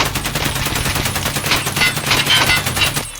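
Suppressed AK rifle in a video game, fired from a standing stance in a steady, rapid automatic burst for about three seconds, loud and close with continuous rattling reports and no talking.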